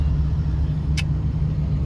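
Heavy road traffic in Guadalupe as a steady, dense low rumble of engines and passing vehicles, continuous and close with no talk.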